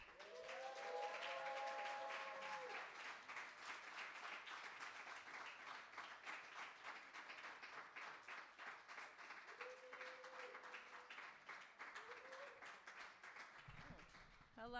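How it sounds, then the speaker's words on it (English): An audience at a faith-based poetry event claps steadily and continuously for a long stretch, with scattered cheers and whoops rising above it. "y'all really clapped all the way"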